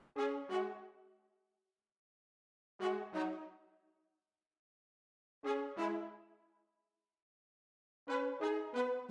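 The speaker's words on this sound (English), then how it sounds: "I also have a trumpet section which is like a very small trumpet staccato which I have" A trumpet section played on the Flex software instrument fires short staccato brass stabs in four separated bursts of quick repeated notes, with silence between them and the final burst fastest.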